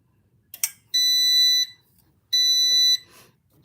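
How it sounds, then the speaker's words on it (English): A machine beeps when finished, sounding two long, loud electronic tones separated by a pause, with a short click before them in a quiet room. "so it's beeping. That means it's done."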